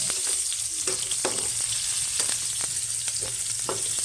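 Fish fries in hot oil until toasted, giving a steady, close sizzle with occasional sharper pops and stirring, and no talking.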